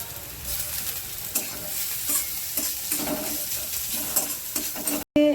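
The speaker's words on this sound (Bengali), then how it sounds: "একটা পেঁয়াজকে আমি কেটে রেখেছিলাম ঝিরি ঝিরি করে, ওটা দিয়ে দিলাম। গ্রেট করা আদা রসুন দিয়ে দিলাম।" Sliced onion with grated ginger and garlic frying in a pan, giving a steady close sizzle broken by the repeated scrapes and knocks of stirring. No one speaks.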